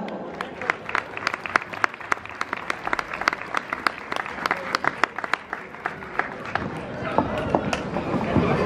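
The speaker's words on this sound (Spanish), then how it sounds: "Un fuerte aplauso." An audience at a folk festival claps at night, a spread of distinct individual hand claps rather than a dense roar, fairly close, with voices underneath and the clapping thinning toward the end.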